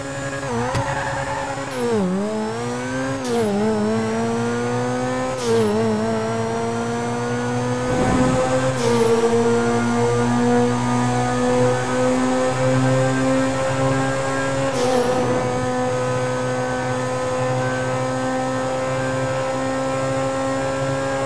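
A Turismo sports car engine in GTA 5, revving up and down in several sharp surges before settling into a sustained, loud, smooth high drone, heard close and alone.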